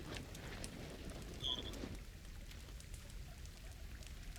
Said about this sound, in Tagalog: Ay, umuulan pa nga.